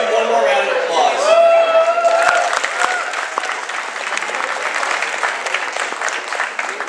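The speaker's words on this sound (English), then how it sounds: "if we can just give one more round of applause" Audience applause at the PIELC 2019 environmental law conference: a steady, full wash of clapping from a crowd that holds for the whole stretch, with a voice talking over the first couple of seconds.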